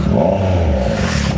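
A Triumph motorcycle engine revs up close, a loud throaty rumble rising and falling over a moment.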